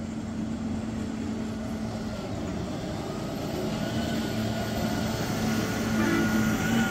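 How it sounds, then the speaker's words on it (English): A track tamper rolls past nearby, steady broadband roar with low mechanical hum and faint tonal whine, building slightly louder toward the end. "Now this is a track tamper"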